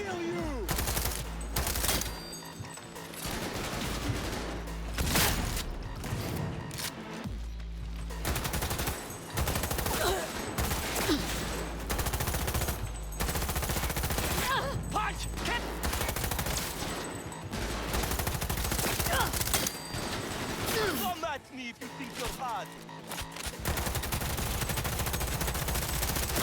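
Rapid gunfire in Cyberpunk 2077, sustained loud automatic bursts with brief pauses, heavy and continuous over a long stretch, with occasional talking mixed in underneath.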